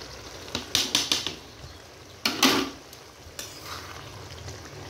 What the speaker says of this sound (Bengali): চিংড়ি মাছগুলো দিয়ে দিলাম